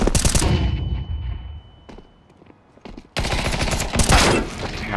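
Rapid bursts of video game gunfire on the Vertigo map, loud and dense at the start, thinning to scattered shots, then erupting again in heavy automatic fire.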